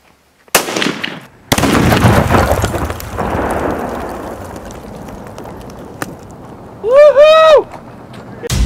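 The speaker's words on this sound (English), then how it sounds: "getting ready to blow up the pumpkin with the 223 right now" A .223 rifle shot detonates tannerite packed in a pumpkin outdoors: a sharp crack, then a loud booming explosion that rolls and fades over several seconds, followed later by excited whooping.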